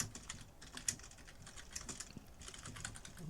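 Rapid typing on a computer keyboard, a steady patter of light, close key clicks continuing without pause and with no voices.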